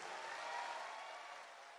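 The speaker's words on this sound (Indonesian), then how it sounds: "Tepuk tangan untuk para pejuang verifikasi." Crowd applause fills a political rally at a PSI party national gathering, a dense, steady wash of clapping that stays even and fairly distant before easing slightly toward the end.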